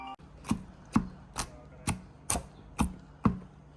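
A knife slices food thinly on a cutting board in Italy, seven evenly spaced sharp chops about half a second apart, close and distinct over quiet background.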